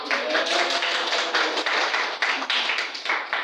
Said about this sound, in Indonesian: anak-anak semuanya ibu beri aplaus dulu ya